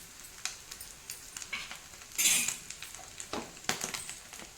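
Prawns fry in a pan with chili powder, coriander powder and coconut powder, giving a steady soft sizzle broken by stirring scrapes and occasional utensil clinks, with a louder burst of sizzling midway; close, with no talking.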